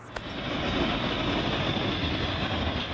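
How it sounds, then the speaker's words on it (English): Train rolling over a faulty stretch of railway line with concrete sleepers and a mud hole, a loud, steady broadband roar of wheels and carriages filling the whole span with no talk. "And what happens when a train comes through?"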